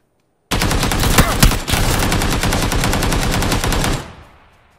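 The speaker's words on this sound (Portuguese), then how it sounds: "Cara atirando." Video game machine-gun fire, one loud, close, continuous rapid burst of evenly spaced shots lasting about three and a half seconds, then a fading tail.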